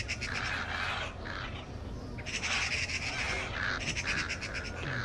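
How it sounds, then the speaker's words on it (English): Birds calling in the video game Thief, bursts of high chirping and trilling calls in clusters over a steady low ambient background, fairly close and clear. "Birds."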